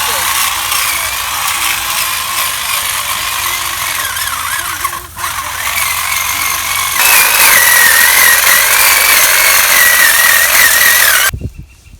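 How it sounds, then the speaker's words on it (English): Grasses being cut down outdoors with a power tool: a loud, continuous motorized whine and buzz close by, rising in pitch partway through and cutting off abruptly at the end. "I'm way over here cutting down some grasses."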